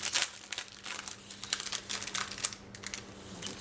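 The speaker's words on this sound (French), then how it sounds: "je vais ouvrir mon emballage ici" Plastic packaging holding craft feathers is torn and crinkled open nearby, a run of sharp, irregular rustles and crackles with brief pauses, close and fairly loud, no voices.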